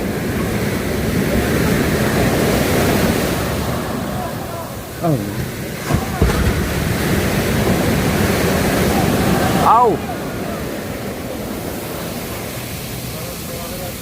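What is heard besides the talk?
big rough waves churning the water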